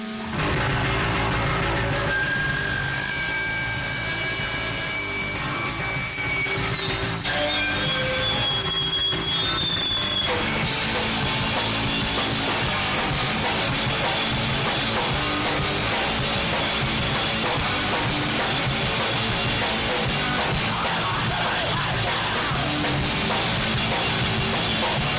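A song playing loud and dense, with distorted garage-punk guitars, driving drums and sustained noisy texture throughout, after a brief sparser opening.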